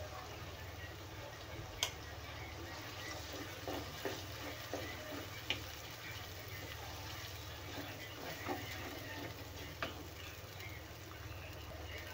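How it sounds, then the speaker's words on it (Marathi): Ground masala paste fries in oil with softened tomatoes for a mushroom curry, giving a steady, moderately quiet sizzle with occasional stirring clicks and scrapes throughout. "मसाला छान आपल्याला तेलामध्ये भाजून घ्यायचा आहे, तेल सुटेपर्यंत"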